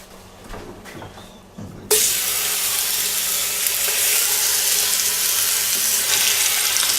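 Round steak dropped into a hot pot, a few soft knocks and thuds, then a sudden loud, steady hiss of searing that carries on up close.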